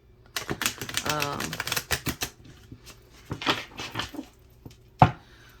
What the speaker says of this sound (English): I'm gonna give it one more shuffle and then cut the deck.